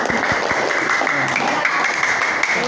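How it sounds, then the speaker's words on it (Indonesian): A school class applauding a presenting group, a dense, continuous patter of many hands clapping in a room, with a few louder individual claps and some voices mixed in. "Kita beri tepuk tangan"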